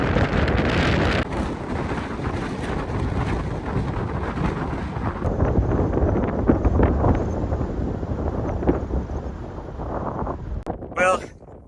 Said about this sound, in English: Definitely enough wind to make it a little bit unpleasant to be out in and to blow you off your feet sometimes.